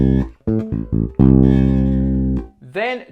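An electric bass plays a short phrase of several plucked notes from a bass line, ending on a long sustained note followed by a quick bending slide.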